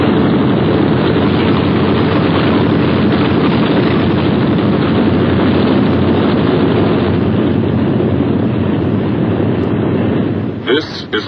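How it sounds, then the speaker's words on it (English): Boeing B-17 bomber engines roar in a loud, steady, unbroken drone over the English countryside, with a narrator's voice talking over it throughout. "Only the roaring engine sound of the bombers pounding through the quiet English countryside."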